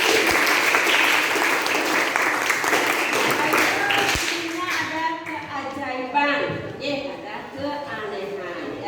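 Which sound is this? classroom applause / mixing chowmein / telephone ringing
classroom applause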